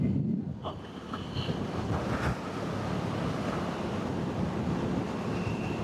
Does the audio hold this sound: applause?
no